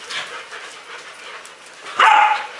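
Australian Shepherd dogs play with puppies: soft scuffling and faint yips, then one louder, close bark-like yelp near the end.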